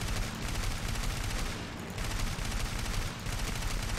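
Dense, rapid bursts of machine cannon fire from a fighter plane in War Thunder, loud and continuous with two brief pauses, the rattling shots merging into a steady roar.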